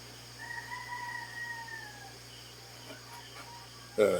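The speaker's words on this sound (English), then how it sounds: "I guess you hear the roosters in the background" Distant rooster crowing in two drawn-out calls, faint against a quiet background hum, followed by a brief louder clatter close by at the end.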